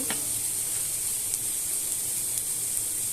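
Flour with chilli powder, salt and coriander powder frying in oil in a pan, a steady, bright sizzle with soft hiss running evenly throughout, alone with no talk.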